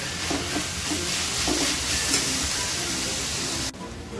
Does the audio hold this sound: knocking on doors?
no